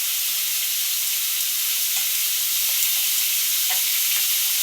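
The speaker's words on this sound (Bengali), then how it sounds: "এবার আমরা ভালোভাবে মিক্স করে নিচ্ছি" Ground spices, cumin powder and Kashmiri chili powder, are stirred in a hot frying pan, giving a constant bright sizzle with a few soft spoon scrapes and clicks, near and without talk.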